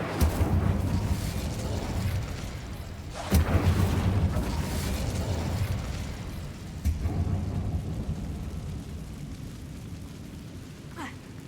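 The Incendio fire spell is cast in the video game Hogwarts Legacy inside a closed mine, loud rumbling whooshes with three sharp bursts over a dense, continuous roar of game sound.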